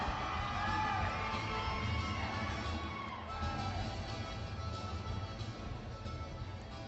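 A crowd cheers and whoops steadily at the day-one Bassmaster Classic bass fishing weigh-in in 2014, a dense roar of voices with scattered yells, loudest early on and easing slightly later.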